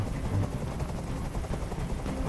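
Helicopter in the video game Detroit: Become Human, a steady low rotor rumble and thrum filling the scene throughout, loud and continuous with no speech over it.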